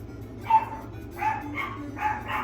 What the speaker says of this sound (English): My dogs.